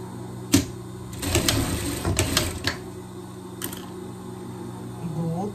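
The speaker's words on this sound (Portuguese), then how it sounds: "aqui eu vou passar uma costura." A sewing machine stitches ribbing onto a fleece pet jacket in short, close mechanical bursts of rapid clatter with brief pauses between runs.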